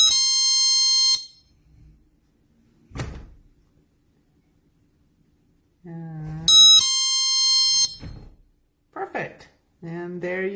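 A GE personal security window and door alarm sounds a loud, piercing electronic tone in two bursts, with a click and a brief voice between them and more talking afterward.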